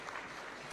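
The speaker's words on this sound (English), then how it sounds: "A round of applause please" Short burst of audience applause at an awards ceremony, right after a Top Exporter award is announced: a dense, steady wash of clapping from a crowd, heard only briefly.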